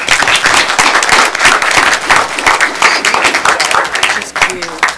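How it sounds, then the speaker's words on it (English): A school crowd applauds a student being honored, a dense, steady patter of many hands clapping at close range that fills the whole stretch with little letup. "Let's give her a round of applause."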